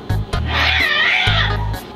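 A cat meows loudly and up close in a long, wavering drawn-out cry, with low thumping handling noises underneath and brief pauses.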